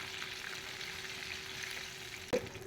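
Aubergine and potato slices fry in a pan for a spiced aloo baingan dish, giving a steady, even sizzle throughout, with one brief clatter near the end.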